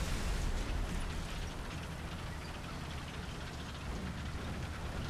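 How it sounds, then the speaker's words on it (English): Heavy bombs in the War Thunder tank battle game produce a deep, sustained rumble, with a loud blast at the start fading into continuous low roaring and crackling debris. "Those are big bombs."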